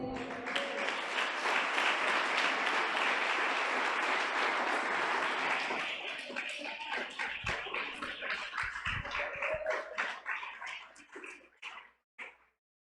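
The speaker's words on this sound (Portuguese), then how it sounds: "Aplauda ele." Church congregation applauding in a worship service, a dense steady wash of clapping for about six seconds that thins into scattered, fading claps before stopping near the end.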